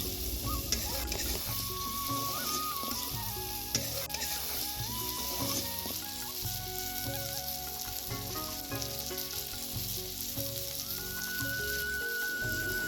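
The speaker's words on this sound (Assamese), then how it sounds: "মাংসখিনি মই ভালকৈ ভাজি ল'ম।" Smoked pork, added to onions already fried in a pan, sizzles and crackles steadily up close while it is stirred, with a faint clink of the utensil against the pan now and then.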